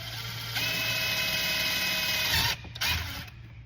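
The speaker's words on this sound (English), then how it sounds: "I'm gonna start with a really small drill bit," A small bit drills a hole into a no-throw pole, a steady whirring drone that runs continuously for about two seconds, then briefly stops and restarts before tapering off.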